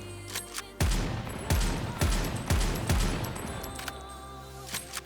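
Rapid bursts of gunfire from Goddess of Victory Nikke ring out in a quick sequence of four or five sharp, loud volleys, followed by scattered quieter shots and game sounds.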